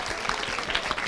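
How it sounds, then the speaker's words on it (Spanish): Studio audience applauding on a Mexican television talk show, a short burst of dense, bright clapping from a crowd, close and fairly loud, with no voices over it. "Un aplauso."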